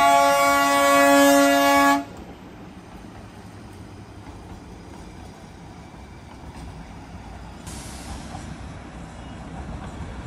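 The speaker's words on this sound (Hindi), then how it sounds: "टॉय ट्रेन आ गई, टॉय ट्रेन क्या बात है" The small Darjeeling toy train sounds a loud, shrill horn for about two seconds, then rumbles past steadily in the open air, with a second fainter toot or squeal near the end.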